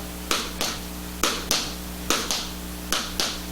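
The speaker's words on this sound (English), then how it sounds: "Brushing forward and back with just the ball of your foot. Shuffle, shuffle. I speed up gradually." Tap shoe shuffle steps, brushing forward and back with the ball of one foot, land as crisp paired taps repeating in an even rhythm, close and clear in a quiet room.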